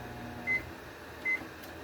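A kitchen timer being set gives two short, clear electronic beeps about a second apart, faint against a quiet kitchen hum, with no talking.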